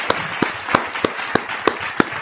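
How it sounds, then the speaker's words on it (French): Rhythmic, evenly spaced claps, about three per second, from an audience applauding in unison for Ibrahim Traoré, close and clear over a faint background. "Applaudissez, applaudissez, applaudissez."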